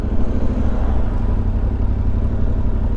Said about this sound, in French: Le moteur, il est, pour un bicylindre,